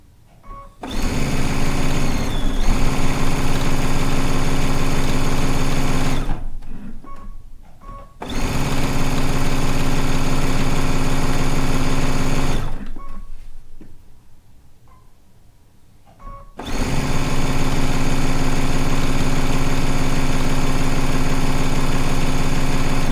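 A sewing machine runs in long steady bursts as it stitches strip-pieced quilting fabric, with loud continuous motor whirring broken by two short pauses.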